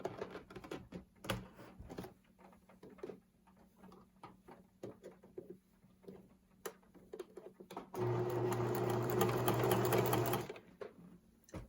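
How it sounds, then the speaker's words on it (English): Vintage sewing machine stitching bias trim onto a silk camisole underarm: scattered needle taps and handling at first, then a steady, loud motor-driven run of stitching for about three seconds before stopping. "I'm going to sew this on to the underarm of the garment"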